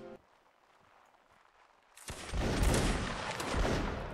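Musket volley in the Napoleonic Wars line-battle video game: quiet ambience first, then a sudden loud ragged fusillade of overlapping black-powder shots that rolls on and echoes for the final two seconds.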